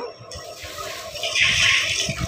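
Water from a hose sprays steadily against the wall of a house outdoors in summer, a continuous close hiss that swells louder toward the end.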